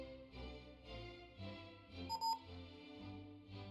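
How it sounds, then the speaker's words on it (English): An electronic beep sounds in the video game Ni no Kuni 2, a short high-pitched tone rising over steady game music, brief and clear in the middle of the stretch. "I hate that beep so much."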